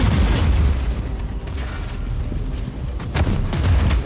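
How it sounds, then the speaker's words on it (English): Bombardment pounds the battlefield in Warhammer 40000: Inquisitor - Martyr, a continuous rumble of loud, close explosions with heavy low booms rolling into one another and a sharper blast near the end. "Oh god, this is bombardment."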